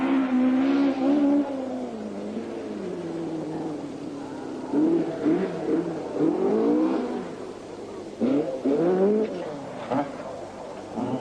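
A 1978 rally car on the muddy Harewood House stage, its engine revving in rising and falling bursts with pauses between, heard fairly close.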